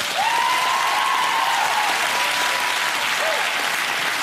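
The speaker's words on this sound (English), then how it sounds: "a big round of applause for our bodybuilder, Robbie Anchin." Studio audience at a comedy panel show applauds loudly and steadily throughout, a dense sustained wash of clapping with a brief cheer-like tone in the mix.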